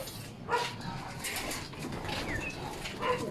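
Breeder pigeons in a loft coo softly and flap their wings in short bursts, a close, quiet mix of low calls and feathery flutters.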